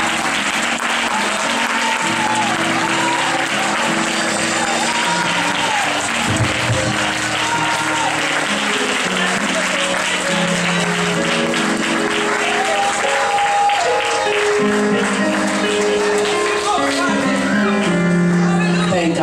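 At a church revival night, a congregation keeps clapping in praise while organ or keyboard music plays, the clapping steady and loud throughout with occasional shouts and voices mixed in.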